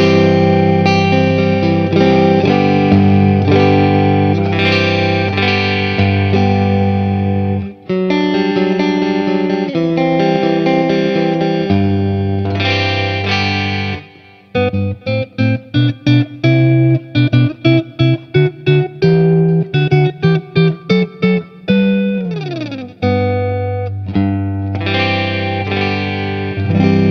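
Distorted electric guitar, a Danelectro '59 with a low-output lipstick pickup, playing sustained chords, then a stretch of quick choppy strummed stabs, before ringing chords return; loud and up close.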